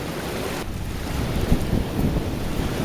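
Surf and strong wind at a Hawaiian beach, a steady roar of breaking waves with buffeting wind noise across the microphone, loud and continuous with no voices.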